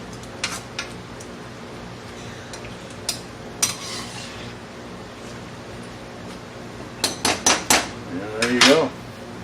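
A metal lid goes onto a pot of black-eyed peas on the stove with several clanks and clinks. Most are near the end as it settles, after a few earlier sharp knocks of cookware.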